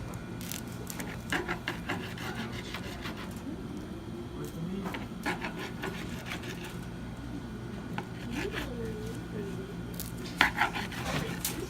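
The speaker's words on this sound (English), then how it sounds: "So we'll get this sliced off. Serrated knife for it." A serrated knife saws through food during a sushi class, giving rough, repeated rasping strokes close by, with light kitchen clatter and voices in the background.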